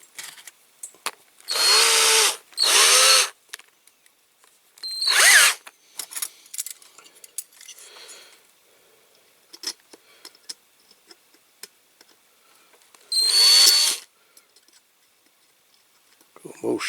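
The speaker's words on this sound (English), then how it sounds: "put the little tiny drill bit in again." A small drill bit bores into a diecast Corgi Major toy crane truck during restoration, in several loud high-pitched bursts of a few seconds each, separated by quieter handling clicks and rattles.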